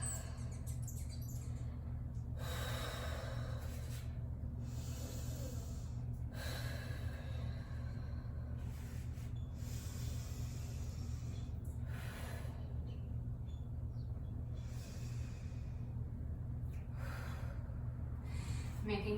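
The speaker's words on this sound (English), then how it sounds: "Making sure I'm breathing nice and deep." Deep breathing during a stretching routine: slow, airy inhales and exhales recur roughly every few seconds, close to the microphone over a constant low hum.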